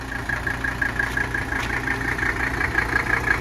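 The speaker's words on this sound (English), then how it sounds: "I'll do a quick walk around the car while it's running so you can hear the engine." A 1983 Mercedes-Benz 300SD diesel engine idles steadily, giving a continuous low rumble with a faint tonal whine above it. The sound is close and even, with no speech.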